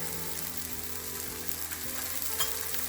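Onion mixture with chilli powder and turmeric sautéing in a pan, a steady close sizzle with light stirring scrapes throughout, alone without voices.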